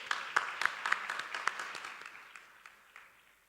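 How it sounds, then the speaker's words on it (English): Applause from the audience at a family business conference in Lagos, a sparse scattering of claps that starts fairly lively and thins out and fades over a few seconds. "Please, let's clap for him as he comes on board."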